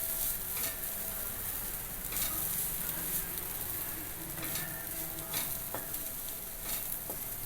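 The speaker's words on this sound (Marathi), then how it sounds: "एक 5 मिनटं आपण त्याला छान फ्राय होऊ दिलेलं आहे." Food fries in a pan with a steady, close sizzle and occasional soft pops and crackles throughout, with no voices.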